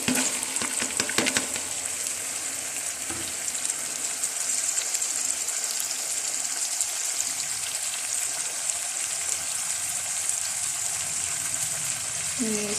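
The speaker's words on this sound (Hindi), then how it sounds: "अब हम इसके अंदर मूली और पालक जो है ना वो शामिल कर रहे हैं।" Chopped radish and spinach hitting hot frying masala for a radish-spinach salan, a steady broadband sizzle with scraping stir sounds at the start, continuous throughout, no talk.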